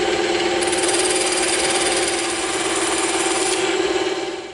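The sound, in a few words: bandsaw cutting EVA foam handle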